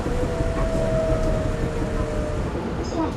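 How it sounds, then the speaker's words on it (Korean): Inside a moving subway train in Korea, a steady rumbling rattle of the carriage fills the background, with a faint high whine running through it and a brief squeal near the end. "어느새 지하철을 탄 지 30분이 지났습니다"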